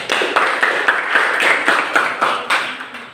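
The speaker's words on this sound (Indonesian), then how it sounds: "Tepuk tangan." A class group claps briskly for a few seconds after a presentation, the sharp claps overlapping into a steady, close round of applause with no talk.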